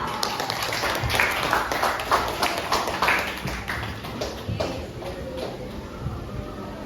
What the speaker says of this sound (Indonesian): Terus tepuk tangan buat Kak Teresa.